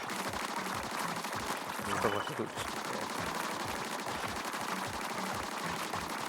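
Rapid bursts of gunfire from a character shooting in a video game, a dense sustained rattle running steadily throughout and holding at an even level.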